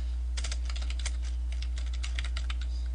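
Typing on a computer keyboard gives quick, close, uneven key clicks over a steady low hum.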